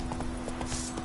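Roach's hooves in The Witcher 3: Wild Hunt, a quick run of clear, evenly spaced clip-clop hoofbeats close up over a low game hum.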